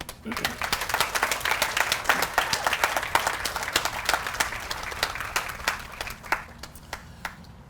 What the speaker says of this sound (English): Please give all yourself a round of applause